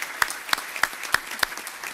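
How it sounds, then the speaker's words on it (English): Sparse, rhythmic clapping at a city council meeting, about six distinct claps spaced evenly in a quiet room, from one or a few people rather than a full crowd. "Give her a round of applause."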